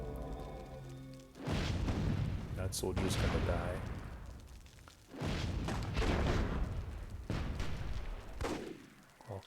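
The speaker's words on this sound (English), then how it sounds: "All kinds of explosions going on." Battle effects from the video game Myth II Soulblighter in a WWII tournament match, with repeated booming explosions and gunfire bursts in loud waves, while a commentator talks over the action.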